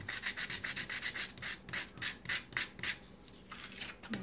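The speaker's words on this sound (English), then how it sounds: "You don't have to sand it real heavy or anything. Just sand lightly." Wood piece of a miniature dollhouse puzzle being sanded lightly by hand, a quick rhythmic series of soft rasping strokes, close and quiet, with no voices.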